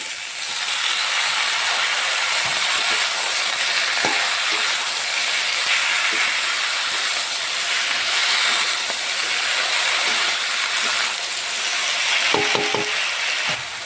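Malabar spinach and pumpkin stalks fry with potato, onion and garlic in a steady, loud, even sizzle, with occasional light scrapes and a few clinks from the pan near the end.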